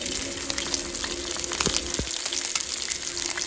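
Fish frying in hot oil, a steady close crackling sizzle with a few brief clicks and splashes, no voices.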